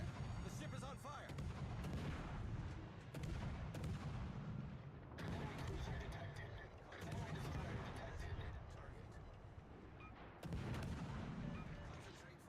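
Warship gunfire in a naval battle game, fired at an enemy battleship: a run of heavy booming salvos, roughly every few seconds, each with a rumbling tail, mixed with ongoing voices and game noise.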